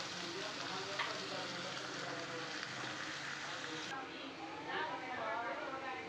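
Potatoes frying in a pan for a rohu fish and potato curry, a steady dense sizzle close by, with a voice speaking over it at moments.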